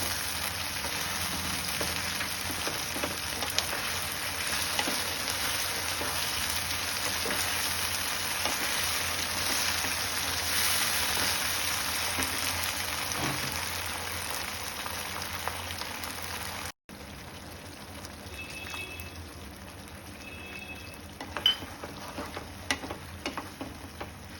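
Paneer and green chillies soaked in vinegar fry in a pan for chilli paneer, giving a continuous, moderate sizzle. After a brief cut it settles into quieter crackling with scattered clicks and stirring sounds.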